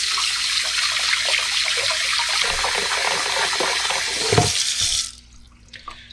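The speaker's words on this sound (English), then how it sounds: "we'll put in a couple tablespoons of salt and hit it with cold water" Cold water runs from a tap into a bowl with a couple tablespoons of salt, a steady close rush lasting about five seconds before it shuts off, followed by a few faint clinks.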